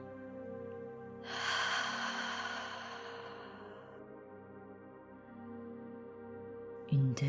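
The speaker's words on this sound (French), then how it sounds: "inspire profondément par le nez, puis expire en laissant sortir le son A" A deep breath drawn in through the nose and let out slowly during a meditation, a soft airy rush that swells and fades over a few seconds above a faint steady musical drone.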